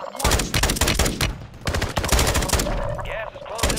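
Rapid automatic gunfire rattles in a Warzone battle royale match on PS5, several close, loud bursts of machine-gun shots in quick succession, with players talking over the action.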